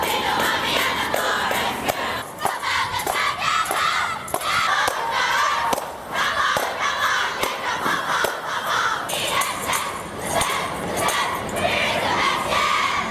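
A large school crowd cheers and shouts nonstop in a cheering competition, loud massed voices with sharp bursts of yelling throughout.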